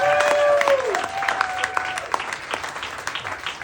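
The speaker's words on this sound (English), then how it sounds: "Give it up again for John." A live audience applauds for a comedian at an open-air show, a dense burst of clapping that starts full and steady, then thins into scattered claps as it fades.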